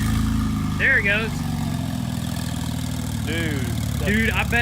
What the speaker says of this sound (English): Just the turbo noise is already just sitting here idling